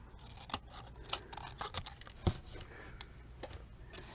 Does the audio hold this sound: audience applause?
no